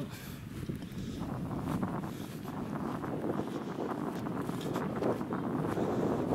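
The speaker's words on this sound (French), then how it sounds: "Non mais il y a du vent, je suis désolé." Wind buffets the microphone in steady low rumbling gusts outdoors at an abbey in Périgord, covering the whole stretch with muffled roaring noise.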